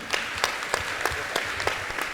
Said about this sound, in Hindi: पहले तो मैं चाहूँगा एक बार जोरदार तालियां